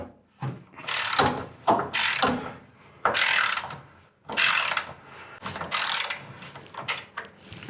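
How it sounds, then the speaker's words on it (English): A 1/2 inch ratchet clicks in short repeated bursts, removing a bracket on a 1985 Ford F-150, each stroke a quick rasping pawl chatter separated by brief pauses, close up. "And I'm using a 1/2" ratchet for this."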